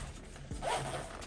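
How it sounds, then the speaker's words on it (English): A zipper on a small canvas marker bag gets pulled open in one continuous rasping run, close and fairly loud, with no voices. "Has a little zipper."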